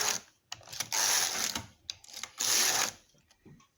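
A Passap knitting machine knits with orange strippers, its carriage making a close mechanical clatter in two long passes, followed by shorter clicks and pauses, with no talking.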